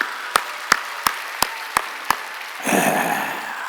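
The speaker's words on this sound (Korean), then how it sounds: "하나님께 박수 쳐요." A church congregation at Sunday worship opens with six slow, evenly spaced sharp claps. These swell into loud, dense applause from many people that fills the hall and continues to the end.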